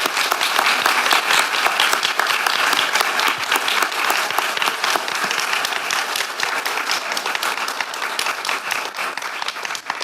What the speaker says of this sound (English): But a round of applause for the nurses here.